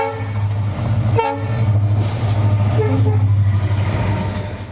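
Train at Banipur railway station in Dibrugarh district, heard as a loud, steady low rumble with a sustained horn-like drone throughout and a brief clanking burst near the start.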